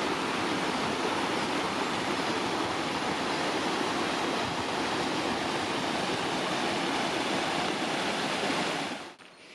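The Serva waterfall in the Alsace mountains, a steady close roar of falling water with constant broadband rush and no voices, ending abruptly.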